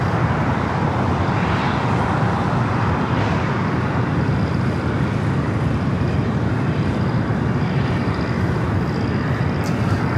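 A Delta Airbus A330-200, a 21-year-old former Northwest jet arriving from JFK at LAX, makes a broad, steady jet roar that holds loud and constant throughout.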